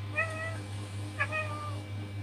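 A small kitten in a mobile cat simulator game gives two thin, high meows about a second apart, clear over a steady low game hum.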